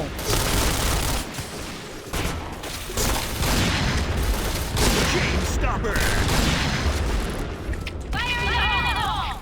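Gunfire in a first-person shooter game, rapid bursts of automatic shots and booming blasts nearly continuous and loud, with electronic game tones near the end and a voice talking underneath.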